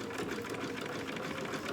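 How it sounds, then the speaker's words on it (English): A sewing machine runs steadily at regular stitch length, stitching Velcro onto a dog outfit; a continuous close, rapid mechanical whir with even stitch rhythm throughout, no talk. "then I stitch with my regular stitch length"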